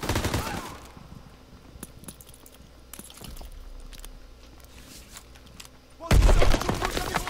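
Gunfire in Call of Duty WW2 on Xbox One: scattered shots and rapid bursts crackle over a low rumble, ending in a loud, sustained close barrage.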